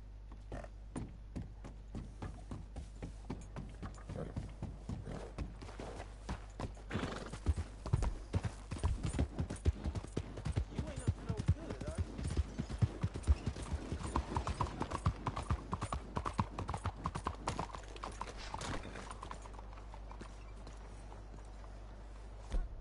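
Horse hooves clip-clop steadily on the ground in the Red Dead Redemption 2 video game, a continuous close rhythm of footfalls that grows busier midway, with a whinny and faint ambient noise around it.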